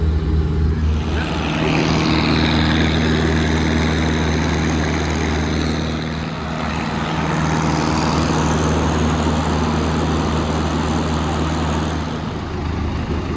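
A farm sprayer runs with its nozzles spraying during equipment winterizing: a loud, steady engine and pump drone under a broad hiss that dips briefly midway, then continues.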